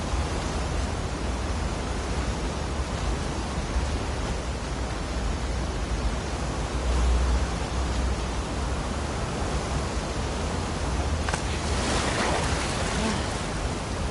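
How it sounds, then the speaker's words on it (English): Ocean waves and churning water current in The Last of Us Part 2, swimming toward the aquarium, form a steady, loud, broadband wash with a swelling surge near the end. "it remained in essence in the section swimming to the aquarium as Ellie when you were avoiding the waves"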